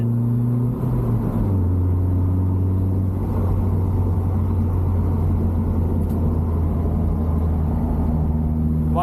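A car engine hums and rumbles continuously from inside the vehicle on a bumpy, narrow backroad, with a steady low drone and slight shifts in pitch as it drives.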